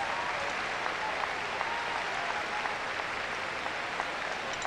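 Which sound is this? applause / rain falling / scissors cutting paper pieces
applause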